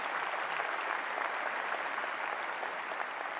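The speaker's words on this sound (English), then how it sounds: "A loud round of applause." A large audience applauds throughout an inauguration ceremony for a governor's second term, a steady dense wash of clapping with no voices over it.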